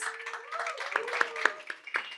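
Audience clapping for the judges at a tech competition awards event, a moderate scattering of hand claps with a few sharper ones, while a voice and a tonal hum carry on underneath.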